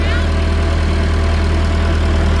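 A tractor engine idles steadily nearby, a low, even rumble with a constant throb and no change in speed.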